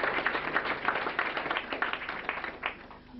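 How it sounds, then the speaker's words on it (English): An audience at the launch of a Gandhi photography exhibition in Australia applauds with steady, moderately distant clapping that holds evenly for a few seconds before beginning to thin out. "You can all turn and applaud him."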